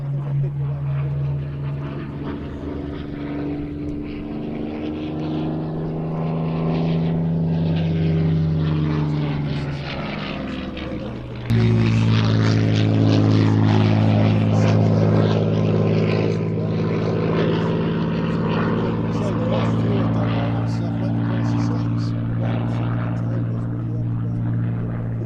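Spitfire piston-engined propeller aircraft at the Duxford Battle of Britain air show, a loud close throbbing engine drone with shifting pitch that steps up abruptly and stays strong, with people talking nearby.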